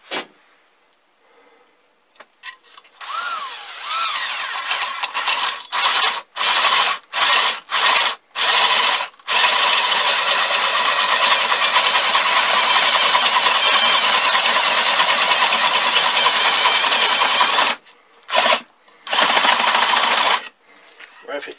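A drill bit bores into wood while a deadfall mouse trap is being built. A loud, close whirring grind comes in several short bursts, then one long continuous run, and stops briefly near the end.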